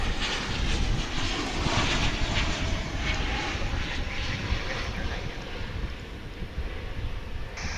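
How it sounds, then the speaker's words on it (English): An American Airlines Boeing 737-800 arrives at DFW International Airport from San Antonio, its jet engines a steady, loud broadband roar that fills the whole stretch without letting up. "2342 coming in from San Antonio, Texas, a 737-800"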